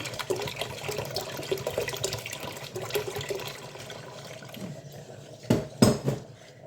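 Water goes into a yogurt soup mixture in a pot, a running, gurgling pour mixed with stirring and clinks of utensils, close, followed by a couple of louder splashes near the end.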